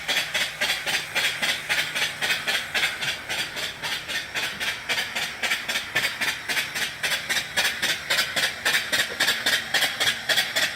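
An antique vertical steam engine runs at a steady pace, giving a fast, even chuff of hissing steam exhaust pulses, close and continuous for the whole stretch with no talk.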